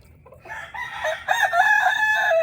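Roosters crow and cluck close by at a backyard chicken coop with a pen underneath, one drawn-out crow rising and overlapping with further calls, loud and clear with no talking.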